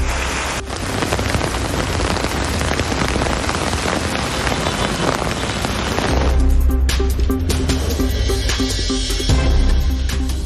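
Heavy rain pouring down in Krishnagiri, a dense, steady roar of drops hitting surfaces throughout, joined midway by a faint tonal background.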